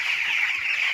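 Sixteen-day-old chickens on a poultry farm make a dense, continuous chorus of high-pitched peeping and cheeping, many birds at once, close by and fairly loud.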